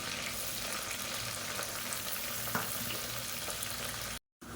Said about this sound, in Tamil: இப்போ வெங்காயம் லைட்டாக வதங்க ஆரம்பிச்சிருச்சு